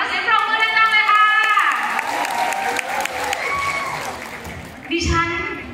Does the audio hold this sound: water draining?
no